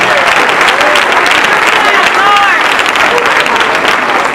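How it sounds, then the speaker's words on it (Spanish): Church congregation breaks into loud, sustained applause, with clapping blended with cheering voices and shouts throughout. "I think the Holy Ghost deserves a great round of applause."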